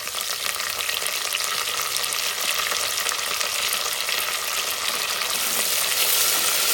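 Fenugreek seeds and curry leaves fry in hot oil for a drumstick and tomato curry, giving a loud, steady, continuous sizzle with no talking.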